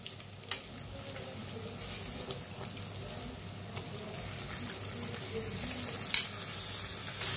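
Lote (Bombay duck) fish being fried in a hot pan, a steady broadband sizzle with occasional sharp crackles and pops, fairly faint and continuous throughout, no speech.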